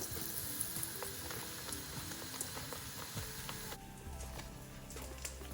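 Aubergine pieces, coated in a moist mix, frying steadily in hot oil: a continuous close sizzle with scattered crackles and small pops, with no talking.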